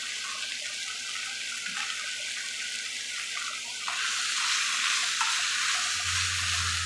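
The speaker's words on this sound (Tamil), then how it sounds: "மூடி போட்டு நல்லா கிளறி வேக வைக்கலாம்" Brinjal thokku sizzles in a pan as the aubergine pieces are stirred before being covered to cook, with a continuous frying hiss and soft scraping stirs that grow louder near the end.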